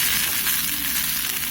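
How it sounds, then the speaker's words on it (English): Dolsot bibimbap crackles and sizzles loudly in a hot stone bowl, a dense, continuous hiss close up with no voices. "The good thing about 돌솥 bibimbap is that it stays hot the whole time. And the sizzle sounds so nice."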